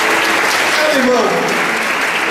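A church audience gives loud, sustained applause at a revival service, a full roar of clapping from many people that carries on throughout, with a voice rising briefly above it.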